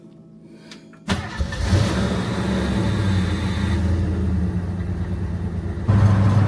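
An old car without air conditioning starts with a sudden catch, then settles into a steady mid-pitched engine rumble and gives a stronger rev near the end, close and loud with no talking.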